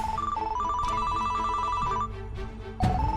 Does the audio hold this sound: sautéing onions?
no